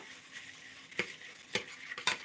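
Puris for bhel puri being stirred and tossed in a bowl with salt, giving a few soft crisp rustling scrapes at uneven intervals, quiet and close, with no talking.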